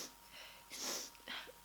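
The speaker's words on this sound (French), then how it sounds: "Je vais éternuer." A single short sneeze from a woman bursts out over faint background hiss, followed by a softer breathy exhale.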